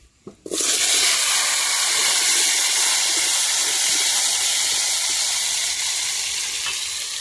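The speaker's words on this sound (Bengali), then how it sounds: "ফোড়নগুলো লাল হয়ে গেছে এবার আলুগুলো দিয়ে দিচ্ছি" Chunks of potato dropped into hot mustard oil with red-fried bay leaf and chilli tempering, a sudden loud sizzle bursting in after a brief quiet moment and then holding as a steady, close, hissing roar.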